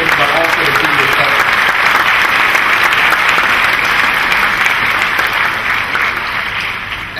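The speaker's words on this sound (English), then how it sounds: "give a big warm applause for all the speakers today" A conference audience claps loudly and steadily from start to finish, a dense, close wash of many hands that trails off slightly at the very end.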